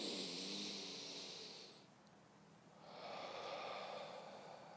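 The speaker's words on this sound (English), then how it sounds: "it's breathing in very, very deeply, feeling like the stomach is inflating" A person breathing in very deeply and then exhaling slowly during a relaxation exercise, two long airy breaths close to the microphone with a brief quiet gap between them, no talking.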